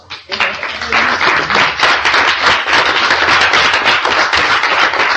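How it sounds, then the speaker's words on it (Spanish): A church congregation breaks into loud, sustained applause, dense clapping that swells quickly and continues steadily throughout. "que ustedes le den un aplauso al Señor"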